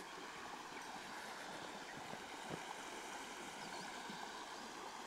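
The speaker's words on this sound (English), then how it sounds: "And here we have a creek." A shallow creek at a vehicle ford flows with a soft, steady rushing wash, faint and continuous, heard alone without any talking.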